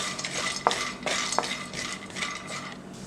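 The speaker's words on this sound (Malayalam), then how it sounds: "അപ്പോൾ കടല നമുക്കൊന്ന് വറുത്തെടുക്കാം." Chickpeas being roasted in a pan, with a steady low hiss and a few light clinks and scrapes of stirring.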